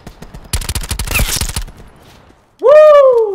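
Quick, closely spaced gunshots in Black Ops 4 Blackout ring out in a loud string for about a second, then stop, followed by a sweeping tonal sound over a lingering game effect and some voice.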